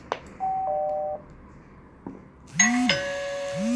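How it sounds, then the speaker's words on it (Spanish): A Pro 8000 IP video doorbell chime triggered over a 4G connection: a steady electronic tone, a pause, then a louder ringing phone-like chime with sweeping tones, close and clear with no talking. "vamos a tocar el timbre estando en 4G."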